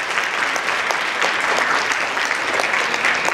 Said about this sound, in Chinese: 团员，你们要不要为你们自己一个掌声？